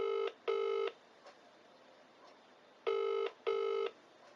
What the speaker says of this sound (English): so I'm going to ring Caitlin